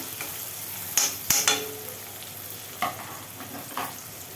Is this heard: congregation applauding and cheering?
no